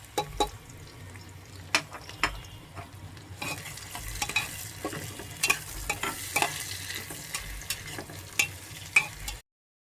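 Chopped onion for khichuri stirred and frying in a pan, a steady sizzle broken by repeated scraping clinks of a spoon against the pan, with no talk.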